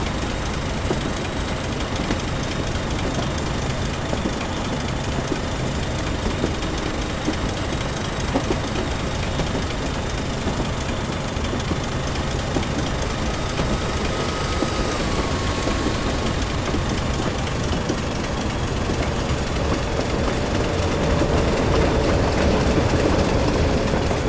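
A steady, loud rumble of a train coasting with power idled on an uphill gradient fills Train Simulator 2015, on a Darlington to Durham route via Bishop Auckland; the drone is continuous, with faint tonal whines and no talk.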